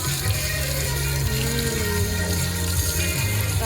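Tap water runs steadily for hand washing at a sink in a Lush shop, a continuous close rush with no talk over it.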